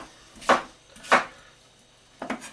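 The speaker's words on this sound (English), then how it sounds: "The cucumber I will just roughly chop." Three distinct knife chops through cucumber on a board, close and crisp, spaced unevenly with quiet gaps between and no talk.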